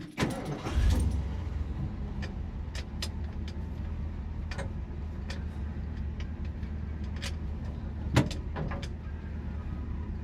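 A 1977 Ford F-150 Ranger XLT 4x4 pickup with a factory short bed and 4-speed manual idles with a steady low engine rumble. Scattered clicks and a brief thump sound near the cab, and no one speaks.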